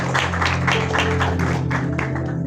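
A church congregation claps together in steady, rhythmic bursts, loud and close, over a constant low hum.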